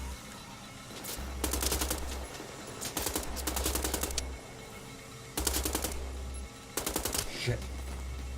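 Bursts of automatic gunfire in a shooter video game, two long rapid volleys separated by quieter gaps, loud and close, with no talk over them.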